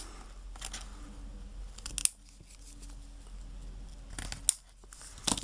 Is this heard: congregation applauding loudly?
no